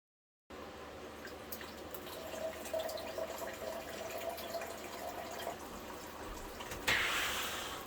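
Water flows steadily from an automatic greenhouse watering system, a continuous close rush with a brief louder spurt near the end.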